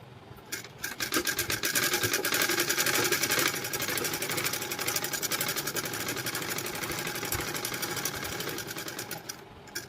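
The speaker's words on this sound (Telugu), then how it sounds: "ఈ ఫ్యూజింగ్ క్లాత్ అనేది అటు ఇటు జరగకుండా ఒక సెంటర్ స్టిచ్ అయితే వేసేద్దాము" A sewing machine runs a continuous centre stitch to hold fusing cloth on a blouse: a close, fast, even mechanical chatter for several seconds with no talk.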